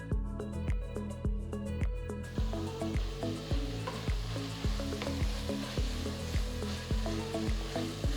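Methi leaves cooking for pulao are stirred in a sizzling pan, with a regular scraping knock about twice a second over a continuous hiss, and a brief ringing tone at the very start.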